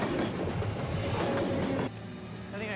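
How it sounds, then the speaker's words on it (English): Distant train rumbling through open backcountry, a low steady roar with faint rhythmic rail noise that holds level and then drops slightly in volume near the end. "I think I hear a train."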